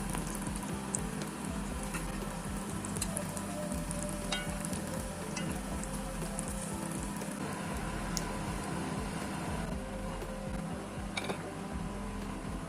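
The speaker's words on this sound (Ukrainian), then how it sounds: "На розігрітій сковорідці по пів хвилини з кожного боку." A steady, busy sizzle of potato-filled lavash pies frying in a hot pan, crackling and popping evenly throughout with no one speaking.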